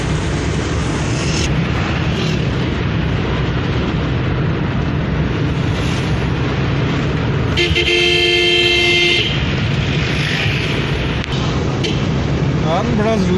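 Car horns honking in the city traffic of Kotli, a long sustained horn blast over continuous loud road noise, with other vehicles rumbling nearby and a voice talking.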